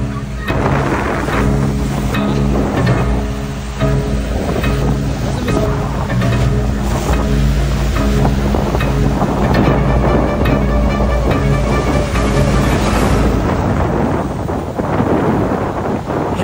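Rough sea waves at Gamasa beach: constant loud surf roar with heavy wind buffeting the microphone, surging and crashing continuously throughout without pause.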